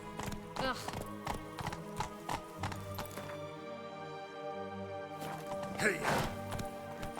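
Horses galloping in the video game Witcher 3, with rhythmic clip-clop hoofbeats and a whinny under game music, a brief shout heard over them.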